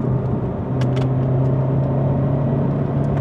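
Toyota GT86 car accelerating, a steady engine rumble with a droning tone that holds loud and close throughout, heard from inside the cabin.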